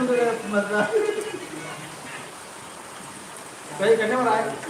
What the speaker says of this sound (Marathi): बघा जोरदार पाऊस आहे मित्रांनो